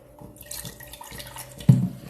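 Water poured into a pot for tea, a short splashing trickle with a few drips that builds to a louder gush near the end, close by and with no talk.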